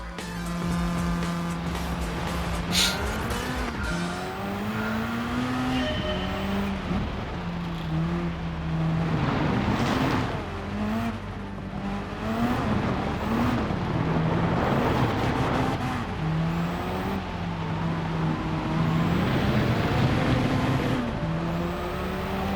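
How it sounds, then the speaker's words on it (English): Rally car drifting in Gran Turismo 7, an engine revving and dropping through repeated slides on a loose surface, steady and close throughout with pitch swooping up and down. "This is strictly what I call drifting"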